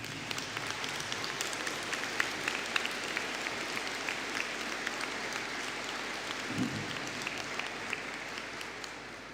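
An audience at a business and hospitality graduation ceremony applauds graduating business students, many hands clapping in a continuous, even roar heard from a distance in a large hall, with sharp individual claps standing out now and then.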